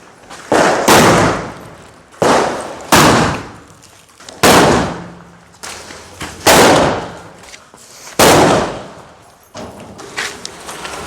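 Diwali firecrackers burst outdoors in a series of about six loud, sharp bangs, each followed by a brief crackling decay, spaced roughly every one to two seconds and close by.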